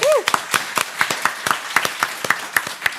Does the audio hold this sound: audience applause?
yes